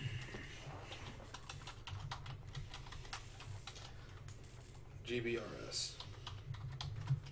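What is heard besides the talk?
typing on a computer keyboard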